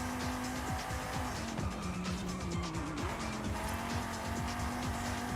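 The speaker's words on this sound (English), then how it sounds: "Oh, I just fucking wrecked. I wrecked bad." Honda NSX crashing in Forza Horizon 5, a steady loud engine drone with tire squeal and skidding tones, rough scraping impacts mixed in, continuous without pauses.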